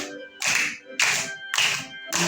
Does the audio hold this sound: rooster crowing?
no